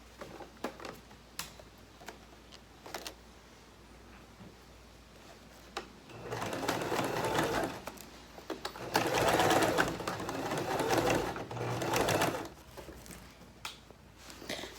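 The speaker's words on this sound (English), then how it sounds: "I'm going to sew across, turn it around, and go down the other side" Sewing machine stitching heavy exterior fabric for a boat bimini top, starting with light taps and short bursts, then running in loud sustained runs of stitching that stop and restart, close up with no talk.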